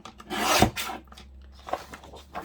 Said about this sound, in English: Okay, I'll just get the small trimmer out. So I'll cut down this border here first.